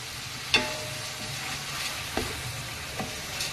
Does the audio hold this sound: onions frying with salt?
yes